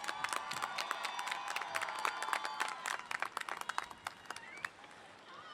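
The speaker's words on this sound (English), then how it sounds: "Please let's give them a round of applause." Audience applause at a high school graduation ceremony in the Oak Park School District, a dense steady clapping crowd with some cheering that thins into scattered claps toward the end.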